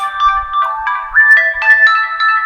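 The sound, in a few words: telephone ringing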